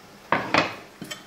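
A spoon scrapes and clatters against a bowl while couscous salad is mixed, three short bright bursts of utensil contact, close and fairly loud, with no talking.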